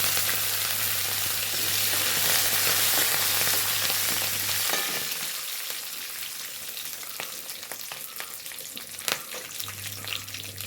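Urad dal and curry leaves crackle and sizzle in hot oil in a pan, a loud close frying hiss that later eases into softer spits and pops, without speech.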